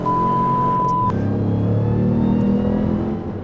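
A 2021 Ram TRX pickup truck launching at full throttle, its engine roaring loud and steady with a deep, sustained rumble and no voices.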